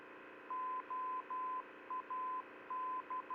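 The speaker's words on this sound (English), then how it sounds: "for those of you that are learning, you got to also listen to the Morse code." Oakland VOR navigation beacon identifier: a steady tone keyed in Morse code, a run of clean dashes and dots repeating evenly over a faint radio hiss, with no talk.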